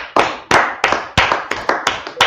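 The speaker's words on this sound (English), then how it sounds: "clap it up." Clapping from an audience in a street gathering, several sharp bursts of claps in quick irregular rhythm, fairly close and loud with no talking.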